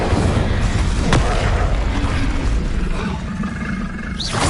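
Loud roaring whoosh of an Incendio fire spell in Hogwarts Legacy, a dense continuous rumbling blast with a sharp crack about a second in and a rising swish near the end, no talk.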